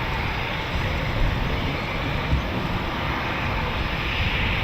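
An RAF Eurofighter Typhoon FGR4 jet takes off from RAF Coningsby as a steady, loud, broadband engine roar, sustained and even throughout with no talk over it.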